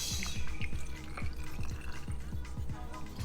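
Jameson Irish whiskey is poured into a pickle jar, a quiet glugging and dripping stream of liquid close by, with a few faint rhythmic bubbling pulses.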